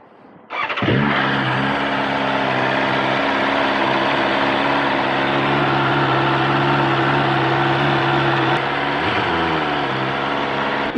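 A 2024 BMW S1000RR sport bike on its stock exhaust fires up and settles into a steady, loud, close idle with a deep even drone and a slight dip in pitch near the end, no voices.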